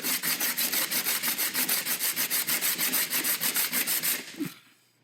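Block of cured J-B Weld epoxy is sanded by hand with 60 grit sandpaper, making rapid, regular back-and-forth rasping strokes about four per second, loud and close, before the scraping stops.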